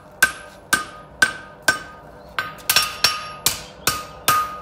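Hammer strikes a hot front horseshoe on an anvil, ringing out in about nine sharp, evenly spaced blows, each with a bright metallic ring that fades quickly, loud and close with no talk.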